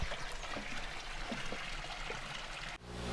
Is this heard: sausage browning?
no